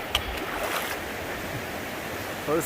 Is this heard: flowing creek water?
yes